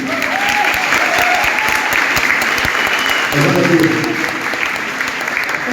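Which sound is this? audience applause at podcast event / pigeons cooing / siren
audience applause at podcast event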